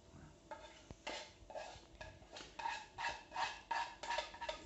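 A spoon or whisk stirring lemon cream as it cooks in a pan for a lemon meringue tart, scraping in a steady repeated rhythm of strokes against the metal, close and moderately quiet with no talking.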